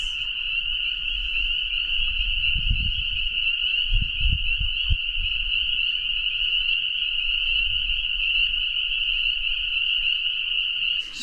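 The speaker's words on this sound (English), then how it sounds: "Spring peepers, I really enjoy hearing them every year" A dense chorus of spring peeper frogs calls outdoors, a continuous high-pitched peeping that rings on without pause, with faint low rustles and knocks beneath it.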